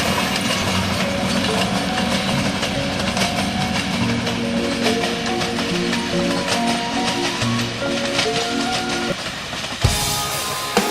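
A train passing Lebak Jero station in a mountain setting, loud and near, with a steady rolling rumble, rhythmic wheel clatter and tonal horn-like engine notes, ending in an abrupt shift near the close.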